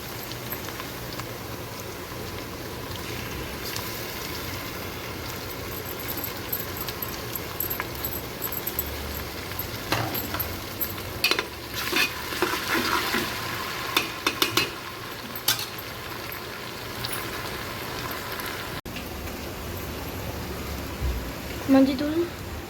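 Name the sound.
sautéing onions with ginger garlic paste for vegetable biryani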